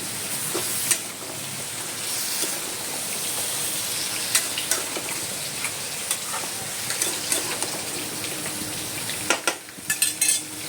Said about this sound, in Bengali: কড়াইতে আমি দিয়ে দিলাম, দিয়ে এবার আমি নাড়ব।